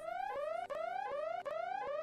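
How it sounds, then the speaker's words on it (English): Repeating electronic car alarm from the Adventure Box video game's sound effects, a loud rising whoop cycling about every three-quarters of a second with no talk. "alarm noises,"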